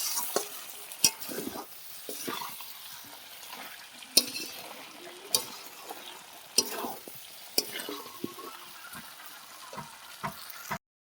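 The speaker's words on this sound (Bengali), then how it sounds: "রাখা আলুটা দিয়েও কিছুক্ষণ কষিয়ে নিয়েছি" Fried potatoes stirred and sautéed with country chicken in a pan, a soft continuous sizzle broken by sharp scraping clicks of a spatula against the metal at irregular intervals, close and without talk.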